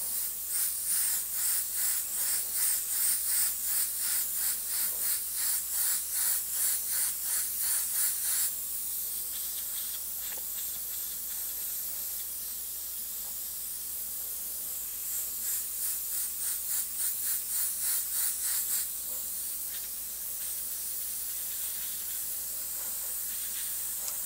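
An airbrush spraying paint over blue overspray gives a steady close hiss with a fine fluttering pulse, easing off briefly around the middle and again near the end.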